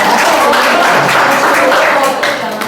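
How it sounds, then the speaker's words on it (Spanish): An audience claps loudly and densely at the close of an academic session on curriculum design, full applause that fades slightly at the end. "Un aplauso,"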